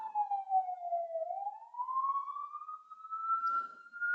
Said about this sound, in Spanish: Uy, ambulancia.